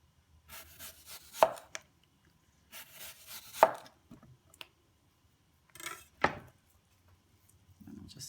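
A knife slices a Fuji apple thin on a board for a holiday oyster mignonette, giving crisp chopping strokes in several quick bursts with pauses between, close and fairly quiet.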